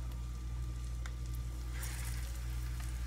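Chicken cordon bleu sizzles and fries steadily in a hot pan as the pieces are laid in, a continuous crackling hiss with a few brighter spatters toward the end, close and alone.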